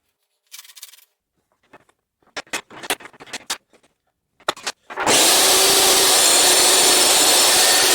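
A few scattered knocks and handling clicks come first, then a saw starts up and cuts wood against the fence for a router sled jig, with a loud, sustained, close roar.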